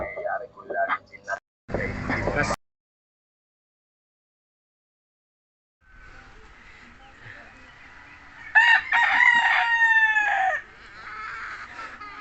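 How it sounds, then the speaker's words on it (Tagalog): A rooster crows loudly and nearby, following brief bursts of talking and a stretch of near silence, with faint background noise around the call. "Ganda manok eh, no?"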